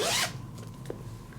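A gold zipper on a knitted project bag zips open or shut in one quick, close rasp, followed by faint handling sounds.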